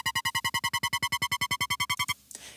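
Harsh, bright Serum synth stabs using oscillator sync pulse rapidly in an even rhythm, a buzzy screeching tone repeated about eight times a second, then cut off abruptly.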